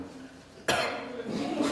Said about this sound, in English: I felt a cough coming